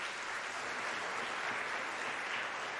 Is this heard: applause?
yes